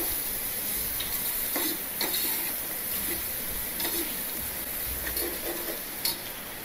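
Mixed vegetables with cabbage sautéing in a pan for kichadi, a constant close hiss of frying broken by occasional light spoon scrapes and taps against the pan.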